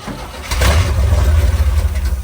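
A 1966 Chevrolet C10 truck engine turns over and catches, then runs with a loud, rough, pulsing rumble up close, unsteady as if barely keeping itself going.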